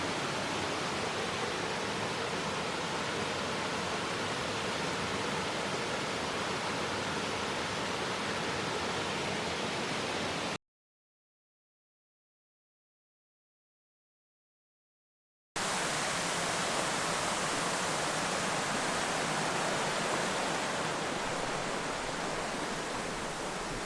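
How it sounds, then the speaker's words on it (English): Waterfall in full flow at the first falls on Kunanyi/Mount Wellington, a loud steady broadband roar close by, broken by a few seconds of total silence before the rushing water resumes. "Here we are at the first falls. Pumping pretty hard today."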